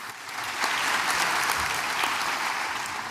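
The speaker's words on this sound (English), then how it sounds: "So a big hand of applause to our" Sustained applause from an audience for a conference panel, many hands clapping steadily at a loud, even level, easing slightly toward the end.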